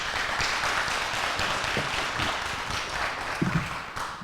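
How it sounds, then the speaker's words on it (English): An audience at a city candidate forum claps steadily, a broad, even wash of applause from many hands in a hall, sustained for several seconds without any voices over it. "Please hold your applause for the end."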